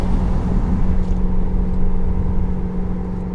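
Engine of a 2015-or-later Subaru WRX fitted with a Cobb intake, heard from inside the cabin with the windows up: a steady, loud low rumble and whir running throughout, without obvious rev peaks.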